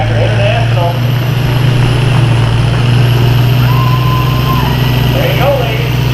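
The International pulling tractor engine roars hard and steadily during a farm tractor class run at a tractor pull, a loud sustained drone while an announcer speaks over it.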